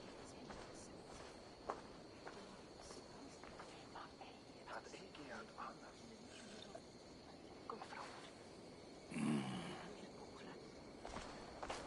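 Soft footsteps from a character walking in Assassin's Creed Valhalla, a steady series of quiet steps under a continuous game ambience, with a brief louder swell near the end.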